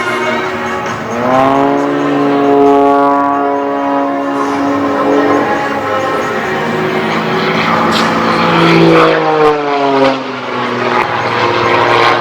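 A propeller-driven aerobatic airplane flying during an aerobatics competition at the 2025 Verdun air show, its loud engine drone rising and falling in pitch as it climbs, dives and passes, steady throughout with no voices.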